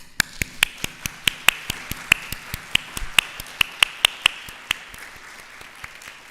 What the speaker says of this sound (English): please join me in expressing our honor and love for Mrs. N.W. with a resounding applause